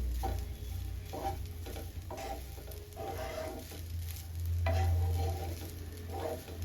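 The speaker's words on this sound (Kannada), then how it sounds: "ಸೊ ಇವಾಗ ರೈಸ್ ಚೆನ್ನಾಗಿ ಫ್ರೈ ಆಗಲಿ" Rice frying in melted butter in a pan, a steady close sizzle with rhythmic stirring scrapes recurring every second or so, no voices.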